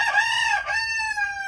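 A rooster crows loudly and close by among a flock of backyard chickens on a spring day, one long drawn-out cock-a-doodle-doo with a rising break in the middle, over faint low background noise.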